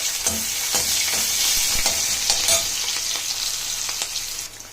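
Onion and mustard seeds fry in oil in a kadai with a continuous close sizzle, broken by intermittent pops and the knocks of a spatula stirring.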